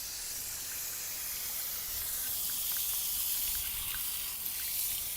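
Water soaking a cooling towel, a steady soft hiss and spray with faint trickling, close and unbroken, no talk over it.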